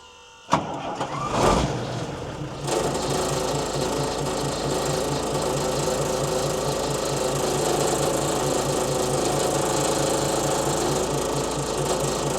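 Engine of a Mercedes-Benz 911 4WD truck cranking after a couple of clunks, then turning over with a loud, steady rhythmic churning that continues throughout.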